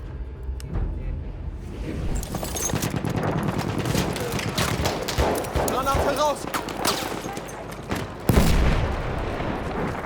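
Dense gunfire in the Battlefield 1 video game: rapid, overlapping bursts of automatic shots and blasts keep up throughout, with a sharp loud crack near the end and voices mixed in.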